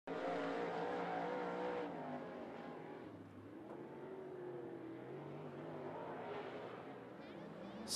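A dirt late model race car runs a lap at 411 Motor Speedway, its engine roaring steadily and loud throughout, rising and falling slightly as it circles, with a track announcer talking over it.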